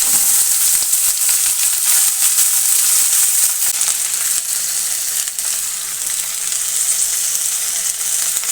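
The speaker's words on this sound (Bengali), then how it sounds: "তেল গরম হয়ে গেছে, তেলের পরে দিয়ে দেবো আমি কেটে রাখা বরবটি আলু ভাজা" Cut yardlong beans and potato pieces fry in hot oil in a pan, giving a loud, steady, close sizzle and hiss that carries on unbroken without talk.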